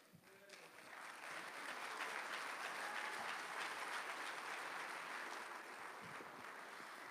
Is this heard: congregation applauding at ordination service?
yes